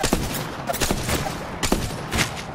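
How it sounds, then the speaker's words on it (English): Gunfire from a sniper and other weapons in the Apex Legends battle royale game, several loud sharp bursts with echoing tails spread across a short stretch of continuous combat noise. "I'm getting shot by a sniper"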